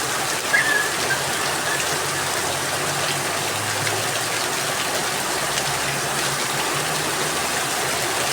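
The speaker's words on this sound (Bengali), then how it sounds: "আমি বৃষ্টির মধ্যে একটা ভিডিও করছি।" Steady rain falls outdoors in India, making a dense, even hiss of drops that stays loud and unbroken throughout. No one speaks.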